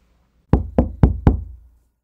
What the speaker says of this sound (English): Ivy arrives early and knocks on the door.